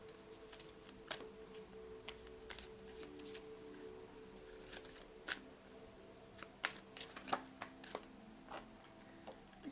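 Crystal oracle cards shuffled by hand, giving quiet, close ticking and soft riffling clicks in irregular bursts over a faint steady hum.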